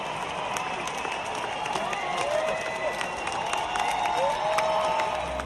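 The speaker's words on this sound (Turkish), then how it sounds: "Binlerce izleyici barış mesajına alkışlarla eşlik etti." Sustained applause from a large concert crowd at a show, dense clapping with scattered cheers rising and falling across the whole stretch.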